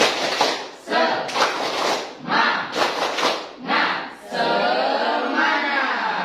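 A classroom of students performs a rhythmic spirit clap, with several loud bursts of clapping and chanting voices in a steady beat, ending in a longer sustained cheer.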